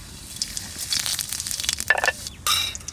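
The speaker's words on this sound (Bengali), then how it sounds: "বাটা দিয়ে দিচ্ছি তেলের উপর" Bata fish sizzling and spitting in hot oil, close and fairly loud, with sharp bursts of crackle rising over a steady frying hiss.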